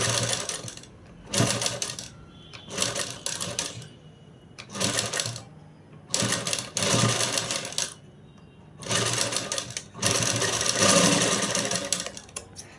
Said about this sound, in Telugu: మనకు మళ్ళీ పైనుంచి కుట్టు వేసేసుకోవాలి